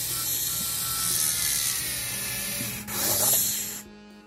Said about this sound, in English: I do the final using of the saw blade, just grind it out a bit more